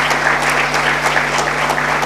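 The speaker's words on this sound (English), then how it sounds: "I think we need to give a big round of applause to all these leaders" Sustained applause from a large audience at a regional business networking leadership event, dense and steady throughout without a break, with a faint hum underneath.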